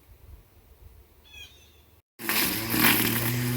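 Weed eater running outdoors, a loud whining buzz that cuts in after a brief silence and holds steady, following a quieter stretch of low rumble and a few faint bird chirps.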